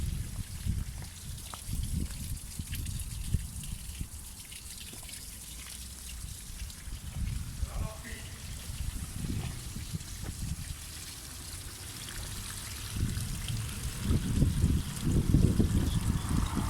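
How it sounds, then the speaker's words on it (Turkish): Muddy water gushing and trickling out while a home radiator is flushed during cleaning, a steady close wash of liquid that swells louder toward the end, with no talking. "Halen çamur akıyor."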